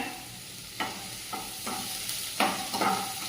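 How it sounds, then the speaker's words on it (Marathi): Onion frying in oil with garlic and cumin, a soft continuous sizzle punctuated by several close scraping stirs that grow more frequent toward the end. "त्यामध्ये हा मी अर्धा कांदा टाकून घेत आहे"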